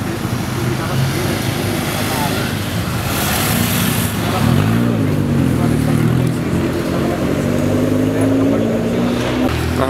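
Chevrolet Opala car engine starting and running with a loud, steady drone whose pitch climbs midway as it revs, amid outdoor background noise.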